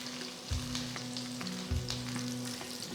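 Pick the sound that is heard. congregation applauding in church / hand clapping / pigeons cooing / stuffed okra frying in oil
stuffed okra frying in oil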